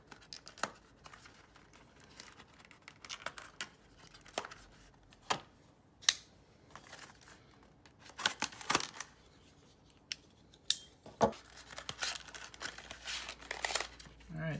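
Plastic and paper packaging of an iPhone SD card reader being torn and crinkled open by hand, with sharp rips and rustling bursts spread across the span, close and fairly quiet.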